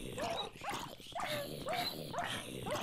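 A dog in the Minecraft video game barks about five or six times in quick succession, each bark sharp and close, with faint game background behind.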